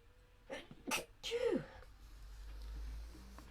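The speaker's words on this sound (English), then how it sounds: "Excuse me, I'm going to sneeze." A single close, breathy sneeze with a sharp gasping build-up, followed by quiet room tone.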